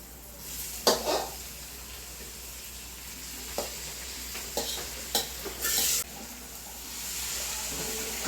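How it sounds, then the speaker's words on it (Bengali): Boiled cabbage fries in a pan with green chillies and chopped onion, giving a soft steady sizzle broken by scraping stirs and a few clinks from the spatula. "তো পেঁয়াজের মধ্যে খুব ভালো করে বাঁধাকপিগুলো আমি ভেজে নেব।"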